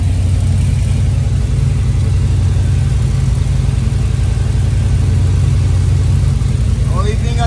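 A car engine idles steadily after a driveshaft reinstall, a loud continuous low rumble filling the whole stretch, with a faint voice under it near the end.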